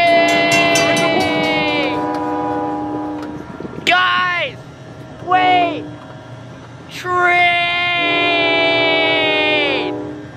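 A passing train's horn blares in long sustained chords, sounding several times with short gaps, loud and close, with shouting voices underneath.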